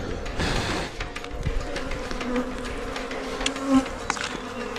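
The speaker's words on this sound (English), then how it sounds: "This loud buzzing is coming from thousands of bees." A dense, continuous buzzing of a large swarm of bees, steady and fairly loud, with individual insects droning past.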